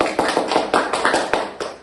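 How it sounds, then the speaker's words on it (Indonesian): A short burst of hands clapping in a classroom, seven or eight quick, evenly spaced claps, close and fairly loud with no talking over them. "tepuk tangan dulu dong"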